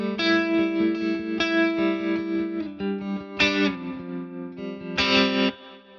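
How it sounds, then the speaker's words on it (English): Electric guitar played through a Tone King Imperial preamp with stereo tremolo and reverb, strummed chords and picked notes ringing with pulsing, effected sustain, loud and close, ending in a short decaying tail. "If you'd like to add the reverb, you just step and hold on that tremolo button."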